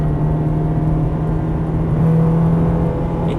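A Ferrari 430 engine on a race track as the driver eases off the throttle: a steady, loud whirring drone with a constant tone, the engine holding revs rather than surging.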